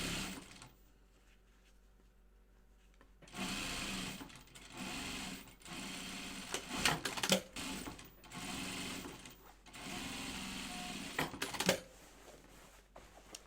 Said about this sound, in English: 1/4 inch seam allowance, sew all our seams and top stitch